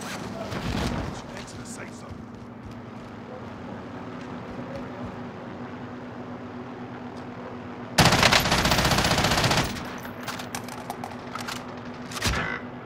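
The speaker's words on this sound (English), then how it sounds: "Someone else is shooting at him from blue." Gunfire in Call of Duty: Modern Warfare, with scattered shots and a dense loud burst of rapid automatic fire midway, set against steady game background noise and people talking.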